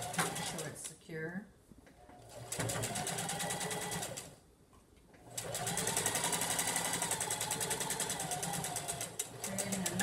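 A sewing machine stitches and backstitches cotton fabric for a surgical mask in loud, rapid bursts separated by brief pauses, with a person speaking around the stitching.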